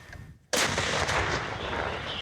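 A sudden deafening boom of heavy artillery fire breaks a quiet moment, followed by a long rolling rumble that trails off.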